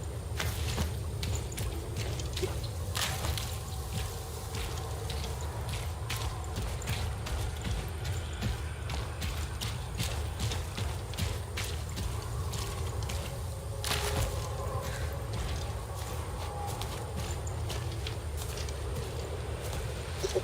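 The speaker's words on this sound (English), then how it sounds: "I am always getting scared by my own footsteps sound." Player footsteps in the video game Blacktail, a steady run of soft clip-clop steps over a low ambient rumble, moderately loud and continuous with no voice over them.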